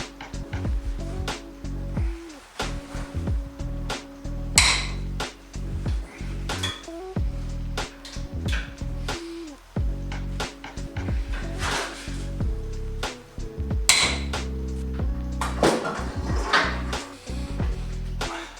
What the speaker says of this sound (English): we should take the head off just to check